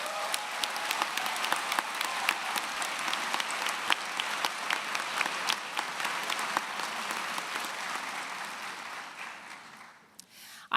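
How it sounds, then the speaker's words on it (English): Sustained applause from a commencement audience, dense steady clapping lasting about ten seconds before fading out near the end, no voices over it. "Let's give them a round of applause."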